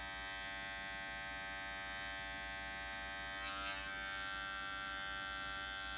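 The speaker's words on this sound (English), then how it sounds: "I'm going to keep the clipper in the open position, and we're going to start that bevel around the edges" An electric hair clipper trims around the ear, its quiet steady buzz with a mains-like hum running continuously, no talking.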